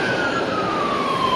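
A police car siren wails on a highway, its tone sliding steadily downward as it passes, heard at moderate distance over road noise for a brief moment.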